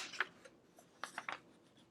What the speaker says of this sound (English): I'm going to just trim out this A1 piece.